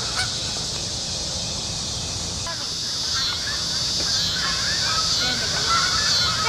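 A flock of geese honks continuously in a dense, noisy chorus, with overlapping calls that grow slightly louder toward the end.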